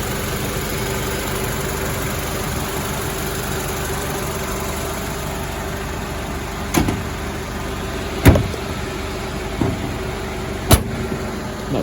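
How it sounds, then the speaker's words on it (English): A 2010 Honda Element LX engine idles under an open hood with belts turning, a steady close hum joined by a few sharp knocks and clunks near the end. "As you can hear, the belts are going nice. Everything sounds nice. Sounds like a normal Honda in here."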